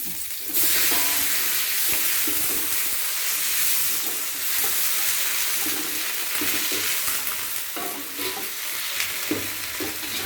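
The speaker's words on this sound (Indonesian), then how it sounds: "Ini udah merah ya, semua bawangnya udah merah, jadi aku tuangin sawi." Washed mustard greens hit a hot pan of fried shallots and set off a loud, steady sizzle, with stirring scrapes and bubbling over it and no speech.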